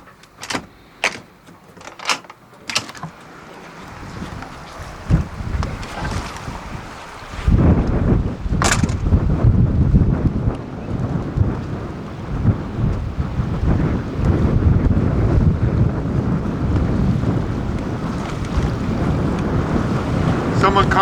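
Strong wind gusting to about 30 knots buffets a sailboat lying at anchor off Mexico, a loud, sustained roar with rumbling microphone buffeting, preceded by a few sharp knocks and quieter moments.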